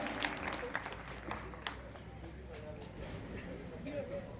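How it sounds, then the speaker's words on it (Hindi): Audience at a Hindi poetry gathering claps together on request, a scattered, fairly faint patter of hands with a few sharper claps, heard at a distance with murmuring voices around it. "तालियां आपने थोड़ी कम बजाई, एक बार मिलकर बजा दें"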